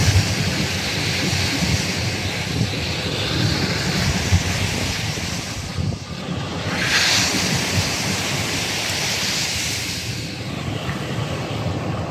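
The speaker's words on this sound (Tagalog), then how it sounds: "Grabe nga alon, no? Lalaki." Big waves crashing at Manila Bay after a typhoon, a dense continuous roar of surf with wind, loud and steady with surges, no talk.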